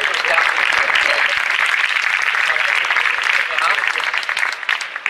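A crowd at a political rally applauds loudly, the clapping forming a dense continuous roar that holds steady for several seconds and thins slightly at the end.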